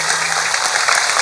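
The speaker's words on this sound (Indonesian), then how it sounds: "Tepuk tangan kagem Mas Ipin" Audience at a Javanese religious gathering applauds for Mas Ipin, a dense steady wash of clapping that fills the whole short moment at close range with no voices on top.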